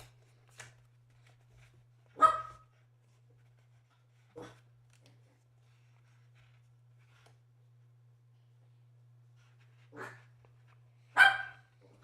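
A small dog yaps in short sharp barks, single and spaced several seconds apart, moderately close in an otherwise quiet room with a faint low hum.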